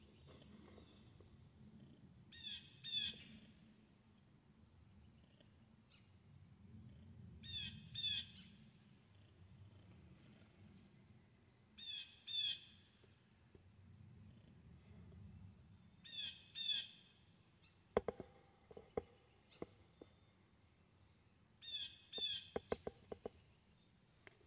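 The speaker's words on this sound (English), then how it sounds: "Hear that bird?" Backyard birds call in short bursts, about five separate chirping phrases spaced several seconds apart, faint to moderate against a quiet low hum.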